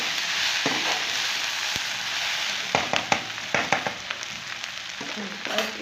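Okra frying in a pan for an onion and ladyfinger dish, a steady hiss of oil with scattered sharp crackles and pops, close by, with no talk.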